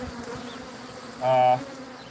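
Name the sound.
swarm of aggressive bees buzzing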